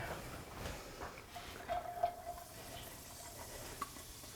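Onions and celery sautéing over medium heat with garlic in the pan, a soft steady sizzle with faint stirring scrapes and a few light clinks, fairly quiet throughout.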